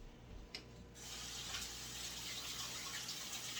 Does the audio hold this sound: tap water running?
yes